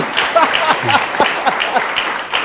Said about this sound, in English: You must clap for that.